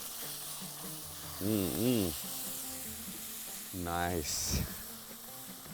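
Food sizzles steadily in a hot pan seasoned with black pepper while being stirred, with two brief louder bursts of stirring scrapes and a short spoken word over the frying.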